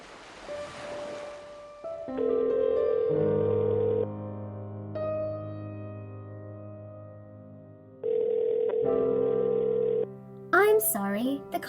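Telephone call-progress tones for an unanswered call: a sequence of loud, steady multi-pitch beeps rising in steps, a pause, then another tone burst followed by a voice.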